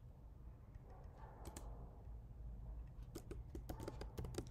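Quiet clicking of a computer keyboard as code is typed, with sparse taps at first, then quicker bursts of keystrokes toward the end over a low room hum.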